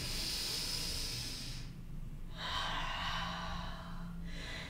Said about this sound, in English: Inhale, chest opens, heart opens. Exhale, one more deep breath here.